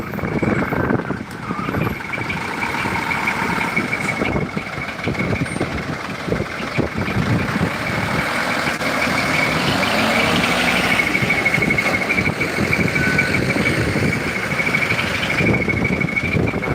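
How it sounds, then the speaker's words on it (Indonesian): Heavily loaded trucks rumble and idle close by on a bridge in slow holiday return traffic, a continuous, loud engine drone that persists throughout, with occasional rattles and knocks. "sudah ketemu dengan mobil-mobil bermuatan berat, maka maksudnya harus lebih pelan"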